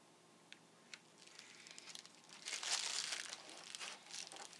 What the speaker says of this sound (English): even though you can't see it, I have the acetate on the mat